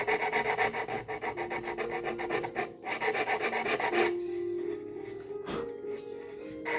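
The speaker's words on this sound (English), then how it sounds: "I'm going to give it a little, tiny little sand on the edges here." A wooden piece gets a light hand sanding along its edges: quick, rhythmic rasping strokes close by for several seconds, then a softer, slower rub that fades toward the end.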